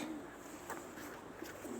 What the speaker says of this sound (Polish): Potężne są te gołębie.